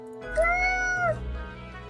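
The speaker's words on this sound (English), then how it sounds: "The cat repeats a sequence of contented meows." A cat in the video game Death and Taxes gives a single clear, contented meow that rises and then falls. It is close and moderately loud over a faint steady background hum.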